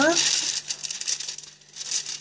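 Wax paper being handled and crinkled while making rose soap flowers, a close, crisp rustle that comes in a series of quick bursts, with a short bit of talking at the start.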